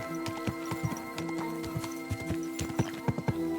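Horse hooves clip-clop steadily at a riding pace in the medieval game Kingdom Come: Deliverance II, an uneven stream of hoof strikes over soft ambient background, with no talking.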